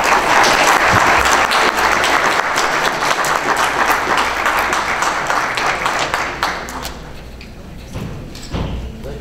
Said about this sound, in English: And please give them a round of applause.